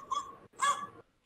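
A dog lets out two quick, soft barks in succession, fairly faint and with no one talking.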